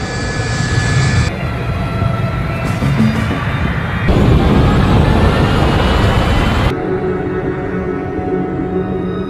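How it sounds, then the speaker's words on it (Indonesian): An airliner takes off, its engines roaring loud and close in a steady, sustained rush of noise that shifts in tone partway through and eases toward the end. "pesawat Ojons Airlines jurusan Amrik pun take off"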